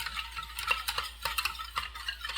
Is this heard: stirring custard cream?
yes